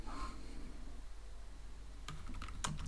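Keys clatter on a computer keyboard during a Python coding session, a quick cluster of close clicks after a stretch of quiet room hum.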